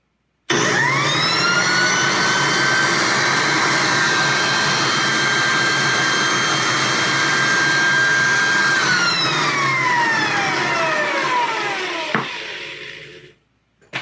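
An American Sanders B2 floor edger starts up with a rising whine, then runs at steady loud speed for several seconds before spinning down after being switched off, its pitch sliding lower as it coasts to a stop.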